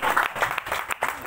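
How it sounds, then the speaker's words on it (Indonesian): Brief burst of audience applause at a student talk show on the Omnibus Law in Pamekasan, Indonesia, a dense patter of claps lasting about a second. "Ini tepuk tangan gitu."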